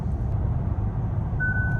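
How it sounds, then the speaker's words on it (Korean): A Hyundai Grandeur Hybrid's lane keeping assist warning sounds as a steady electronic tone that starts near the end, over constant low cabin and road noise while driving. "이렇게 알람까지 띄웁니다."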